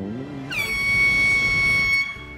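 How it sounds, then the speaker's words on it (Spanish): A cartoon horn in an animated show blares loudly for about a second and a half, a sustained bright tone with rich harmonics that starts with a quick rising swoop, with voices faintly present before and after. "¡Que suene la bocina!"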